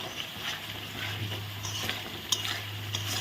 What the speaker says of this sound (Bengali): মশলাগুলো দিয়ে এখন একটু ভালো করে কষিয়ে নিচ্ছি